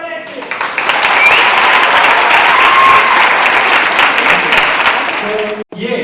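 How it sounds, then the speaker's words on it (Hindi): An audience in a seated session breaks into loud, sustained applause close by for several seconds, with a brief stop near the end. "चलो जोरदार ताली इसके।"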